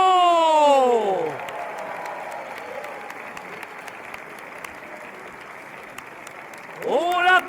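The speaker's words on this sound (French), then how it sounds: "On l'applaudit, ainsi que tous les concurrents de cette joute" A crowd at an archery tournament final applauds the winner with a steady wash of clapping between spoken announcements at the start and end.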